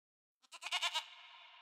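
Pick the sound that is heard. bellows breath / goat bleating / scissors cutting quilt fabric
goat bleating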